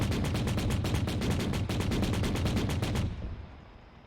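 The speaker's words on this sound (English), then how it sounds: "One, you got an autocannon from the northeast" Rapid autocannon fire in the video game Arma 3, a loud, steady stream of evenly spaced heavy shots lasting about three seconds before stopping and fading into a brief tail, with no talking.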